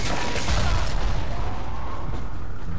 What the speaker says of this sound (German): Das waren jetzt 3 Explosionen.